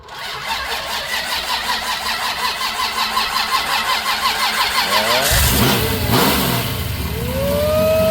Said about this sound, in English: I just want to show you guys the engine running one more time.